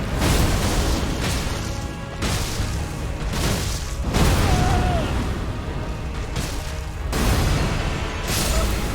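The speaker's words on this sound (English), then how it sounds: "Just got one shot by a random explosion." Repeated heavy booms and bursts from a random explosion in the Elden Ring video game, several loud broadband blasts in a row, close and dense, with no talk over them.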